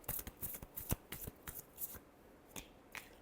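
Tarot cards are shuffled by hand in a quick run of crisp, light riffling slaps and flutters, close up and irregular in rhythm, with no voices.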